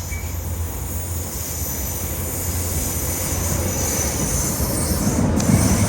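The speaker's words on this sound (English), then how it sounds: "I think this is our train" Passenger train pulling into Hilden station in Northern Ireland, a steady loud rumble of railcars and wheels with a sharp squeal of wheels near the end, close by and continuous with no talking.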